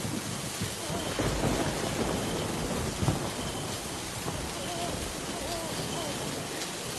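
Heavy, steady rain pours down with a dense hiss, and low thunder rumbles beneath it; a voice murmurs faintly in the background.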